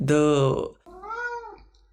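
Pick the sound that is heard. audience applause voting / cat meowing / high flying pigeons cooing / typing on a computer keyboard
cat meowing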